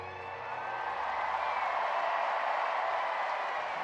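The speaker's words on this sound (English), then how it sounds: "And a roar from the crowd." A stadium crowd at an evening Savannah Bananas banana ball game at Clemson University roars and cheers, a broad sustained wash of voices and some clapping that swells slightly and stays loud and distant throughout.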